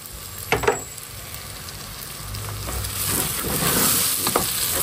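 Spices including cumin fry in a pan for spicy bhuna khichuri, a close continuous sizzle with occasional stirring clatter, growing a little louder toward the end, no voices.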